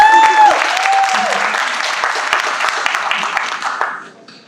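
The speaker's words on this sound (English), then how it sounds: "So, another round of applause." An audience at a film fashion event applauds loudly, a dense wash of clapping that gradually fades out, with a voice briefly audible at the start.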